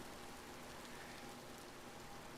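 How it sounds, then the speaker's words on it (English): Rain falling steadily in the background, a faint, even hiss of drops on surfaces with no talking. "We got the nice rain in the background."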